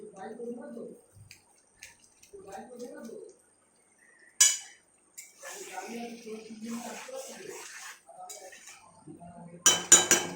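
A lid is set onto a pot of simmering chicken curry, giving a couple of sharp metallic clanks between quieter stretches of kitchen clatter. A person talks throughout.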